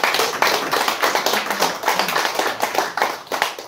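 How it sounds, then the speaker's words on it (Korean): A small audience at a history forum claps together, a fairly close patter of individual hand claps with a loose, uneven rhythm that continues steadily throughout. "박수 한번 쳐야 돼요"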